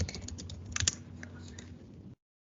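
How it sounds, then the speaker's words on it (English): Rapid typing on a computer keyboard, the key clicks close and fairly quiet, coming in a steady run of taps with a few sharper strokes and no voice over them. "then just type in Wonorejo village"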